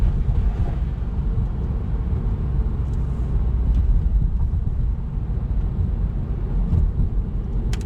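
Manual transmission car accelerating out of a turn into third gear, a steady low engine and road rumble heard from inside the cabin, continuous for about eight seconds with a few faint clicks.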